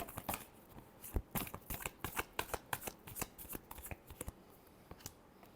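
Tarot cards are shuffled by hand close up, a rapid run of crisp riffling flicks and slaps in uneven bursts with no voice.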